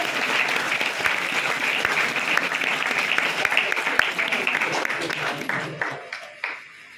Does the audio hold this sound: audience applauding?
yes